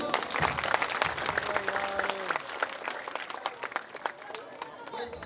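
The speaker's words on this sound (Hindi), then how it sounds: "ये आपकी तालियां बजाएंगी।" An audience at a 14 August Independence Day arts program by the Talagang Arts Society bursts into dense, sustained applause. Scattered voices and cheers carry over the clapping.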